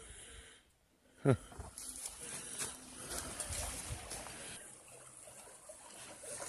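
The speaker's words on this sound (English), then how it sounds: "This is a cool little feeder creek." A small, clean-water feeder creek about three feet deep trickles faintly and steadily, with one brief louder splash-like knock near the start against a soft outdoor hiss.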